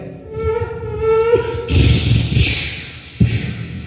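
A voice imitates a mosquito with a thin, wavering buzz that rises, then gives way to noisy breathy sounds and a sudden slap-like thump.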